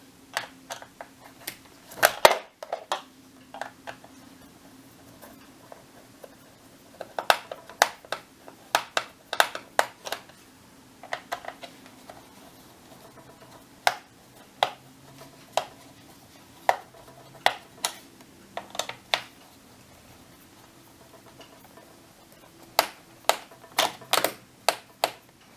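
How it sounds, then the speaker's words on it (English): A screwdriver working screws out of a desktop computer case to free the hard drive: sporadic small clicks and metallic ticks, close and fairly quiet, scattered irregularly with quiet gaps between. "So you have to remove all these 3 screws to expose the hard drive."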